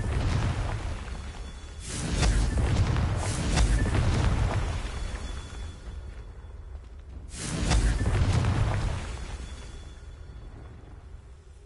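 In Hogwarts Legacy, the Confringo blasting spell sets off two deep, rumbling booms a few seconds apart. Each one swells with a whooshing burst and then fades slowly, with no talking over them.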